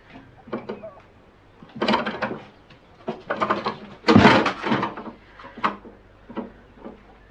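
A wooden door is shifted while a doorstop is adjusted in a period murder-mystery drama: a few scattered knocks and scrapes, with one louder, rougher scrape partway through, close and fairly quiet.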